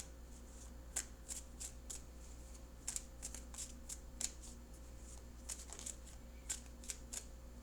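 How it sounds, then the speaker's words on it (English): Tarot cards are shuffled and cut by hand in a quiet room, a string of soft, close riffling flutters and taps spaced irregularly over a low steady hum, with no talk. "And I'll be cutting the cards in just a few more seconds."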